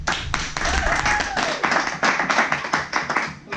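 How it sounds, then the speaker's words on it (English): Loud audience applause at a tech conference stage, brisk dense clapping close by with a brief voice or whistle-like tone mixed in near the start, lasting a few seconds. "please put your hands together for a loud applause for Tim Sievers"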